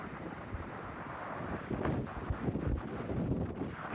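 Strong gusting wind at a scenic lookout point in Idaho buffets the microphone, a loud continuous low rumble that swells and surges throughout.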